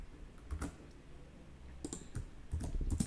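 Clicks on a computer keyboard as shortcuts are typed, a few quick bursts of close keystrokes separated by short pauses; no talking.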